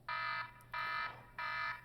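An old iPod Touch alarm ringing, three evenly spaced electronic buzzing beeps about half a second each, clear and moderately loud with short silent gaps between them.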